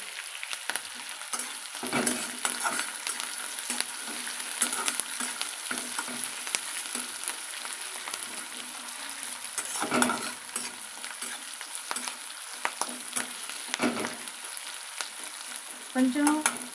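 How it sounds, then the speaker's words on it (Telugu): Garlic, dried red chillies and onions fry in a pan under repeated stirring, a steady hiss broken by regular scraping strokes every couple of seconds, close and alone without speech. "ఈ మన వెల్లుల్లిపాయలు, ఎండుమిర్చి, ఉల్లిపాయలు అనేది బాగా ఫ్రై అవ్వాలి."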